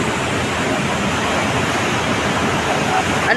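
Rough sea whipped up by a typhoon off Sablayan, Occidental Mindoro, roaring as a loud, continuous broadband rush of surf and wind that never lets up.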